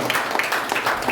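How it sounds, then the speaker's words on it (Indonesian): A congregation claps at a church worship service on the preacher's call, a dense, steady patter of many hands filling the room without a break. "Kasih tepuk tangan buat saya."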